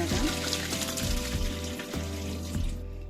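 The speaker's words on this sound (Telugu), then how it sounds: "కోల్డ్ వాటర్ వేసి ఫిల్టర్ చేసుకోవాలండి" Cold water pouring over boiled pasta as it is drained in a strainer: a continuous, fairly loud rush and splash of running water with low rumbling thuds, close by and without speech, cutting off abruptly at the end.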